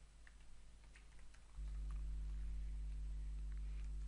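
A computer keyboard in Excel while a macro name is typed: a short run of light, close key taps, with a steady low hum coming in partway and continuing underneath.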